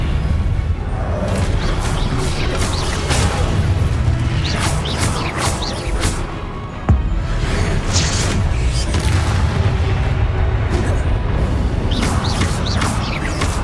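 Confringo fire-spell explosions in the Hogwarts Legacy video game bring repeated booms and crashes through dense, continuous combat noise, with brief sharp impacts scattered across the stretch.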